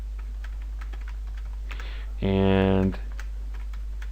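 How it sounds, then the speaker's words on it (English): Typing on a computer keyboard while entering text in Notepad, heard as quick, light key clicks in an irregular run under a steady hum, with a sustained tonal buzz partway through and a brief spoken word. "let's go to Notepad and type in these"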